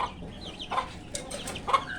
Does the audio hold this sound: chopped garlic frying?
no